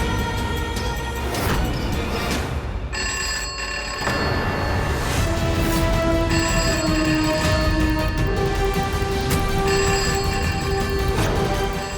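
An electronic telephone ringer in a Hindi TV drama scene sounds loud and continuous with a steady tonal warble, briefly interrupted once, then resuming over a dense musical background score.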